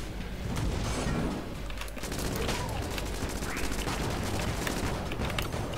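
Rapid, continuous gunfire from a gun in Enter the Gungeon rattles without pause, a dense stream of sharp shots layered over a constant low rumble.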